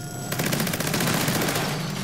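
Rapid automatic gunfire in the video game Fallout 76, a fast, even stream of close, loud shots that starts abruptly and continues without pause.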